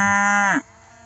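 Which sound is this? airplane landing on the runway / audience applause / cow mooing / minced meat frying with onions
cow mooing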